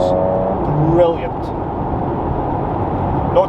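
Porsche Macan GTS with its standard four-tip exhaust, a steady loud engine drone on a B-road drive from Braidwood to Blackwood, under continuous wind and road roar, with a voice talking over it.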